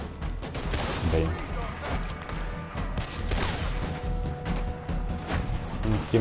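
Gunfire in the Western video game Red Dead Redemption 2: a dense run of sharp shots and crashes through the whole stretch, loud and busy, with someone talking over it.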